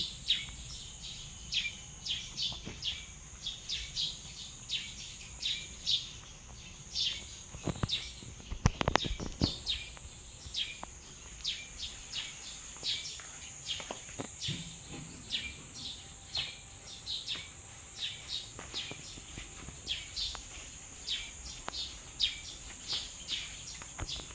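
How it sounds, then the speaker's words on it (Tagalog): Birds chirp and tweet steadily outdoors in the provinces, with a constant high insect buzz underneath and one louder burst of calls partway through. "Ang mga ibon na naririnig nyo, no?"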